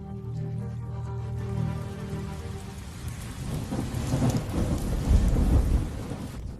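Steady heavy rain pours at a work site while deep thunder rumbles and swells, growing louder toward the end, with no voices.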